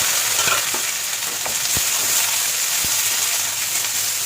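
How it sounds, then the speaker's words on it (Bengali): Onions fry in oil in a kadai with whole bay leaves, garam masala and cumin, making a steady, close sizzle. A few sharp stirring knocks break through the hiss. "এবার পেঁয়াজগুলোকে বেরেস্তা করে নেবো"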